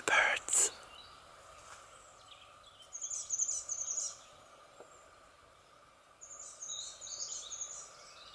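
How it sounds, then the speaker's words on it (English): Birds sing outdoors at a work site, faint bright chirps and trills in short bursts over quiet ambient background, after a brief close noise at the start. "Listen to the birds."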